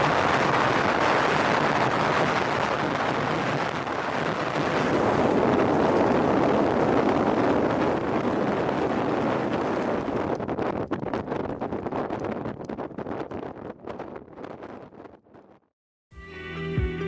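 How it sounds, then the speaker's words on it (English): Strong wind on an exposed island roars continuously against the microphone for most of the stretch, then thins into gusty buffeting before a brief gap. "The wind blew here mercilessly"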